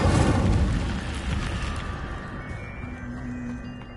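Incendio fire spell cast in Hogwarts Legacy, a loud burst of fiery whooshing and crackling at the start that rolls on with a dense rumble, slowly fading as faint tones emerge over the last seconds.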